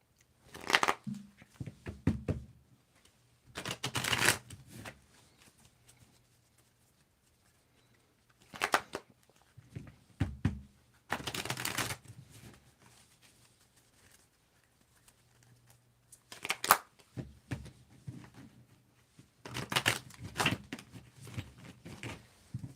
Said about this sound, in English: you need to tell me when to stop shuffling